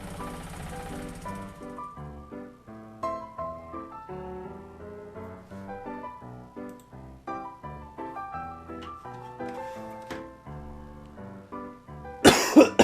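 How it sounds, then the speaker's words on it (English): A few harsh coughs burst out near the end, loud and close, after a long stretch of a soft, plinking old-timey tune playing alone. "God, this stupid cough."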